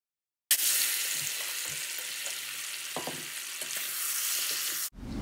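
A cup of hot oil frying with garam masala for mutton biryani bursts into a loud, dense sizzle after a moment of silence, hissing steadily with small pops and stirring sounds until it briefly cuts off.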